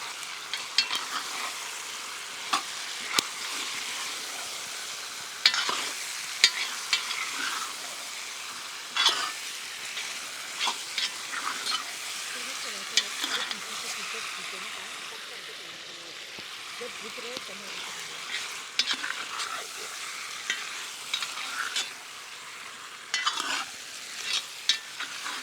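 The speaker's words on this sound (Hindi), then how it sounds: "कड़छी चलाकर सबको मिला देते हैं।" A ladle stirs chicken curry with ginger garlic paste in a Dutch oven during village cooking, soft scraping and stirring strokes repeating over a low, steady sizzle of frying.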